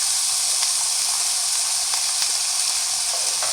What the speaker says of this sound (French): Je fais colorer ma viande dans ce mélange